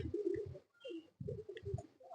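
A pigeon coos in low, throaty bursts while it feeds from a hand, close by and fairly quiet. The calls come in short repeated pulses with brief pauses between them.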